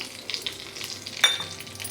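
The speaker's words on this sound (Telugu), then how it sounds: "నేతితో తిరువాత పెట్టుకుంటే మనము పోపు పెట్టుకుంటే ఇప్పుడు ఆవాలు కొంచెం జీలకర్ర ఎండుమిర్చి" Mustard seeds, cumin and dried red chilies sizzle in hot ghee for a tempering, a close, crackling fry with a brief stir.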